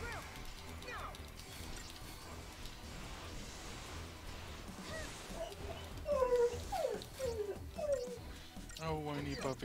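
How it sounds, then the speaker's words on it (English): A puppy whimpers and whines in a string of high, thin cries that grow more frequent toward the end, heard under talking and faint game sounds. "Oh, whiny puppy."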